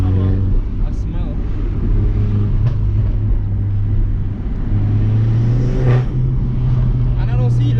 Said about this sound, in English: there's a lot more turbo sound, which I like